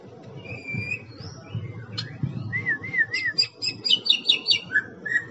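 A white-rumped shama competing in the top class of a bird-singing contest at Boyolali Cup 5 sings loud, varied whistles that build into fast repeated trills, over a low murmur of crowd noise.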